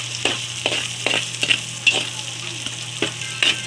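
Garlic and onion sauté in a hot wok for pork and string bean adobo, a steady sizzle broken by regular scraping stirs of the spatula about every half second, close and alone.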